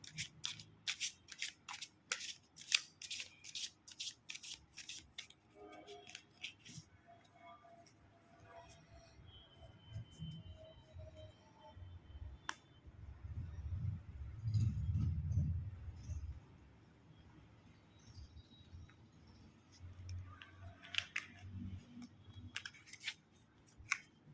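Tarot cards are handled and shuffled quietly up close: a quick run of crisp flicking clicks at first, then sparse rustling and soft taps with a muffled low thump in the middle.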